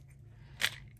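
Scissors snip once through wet-glued paper for a junk-journal bookmark, a single short, crisp cut close by in an otherwise quiet room.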